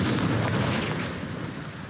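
A deep rumbling blast from the Confringo explosion spell in the Hogwarts Legacy PC game, a dense, loud boom that rolls on for a couple of seconds and slowly fades, with no talking.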